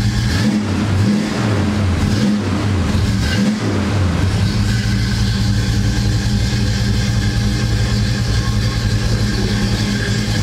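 A 1972 Oldsmobile Cutlass 442 engine revs a few times, then settles into a loud, steady low rumble of idling that runs alone without voices.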